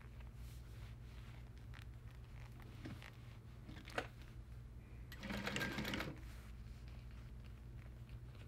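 A Juki DU-1181N7 sewing machine runs steadily while stitching decorative stitches, a continuous close mechanical hum with a brief louder surge of rattling partway through and no talking.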